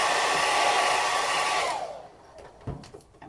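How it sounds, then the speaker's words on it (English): A hair dryer blows steadily and loudly on contact paper during a DIY laundry room remodel, then switches off and winds down, leaving a few quiet handling noises. "going to blow dry"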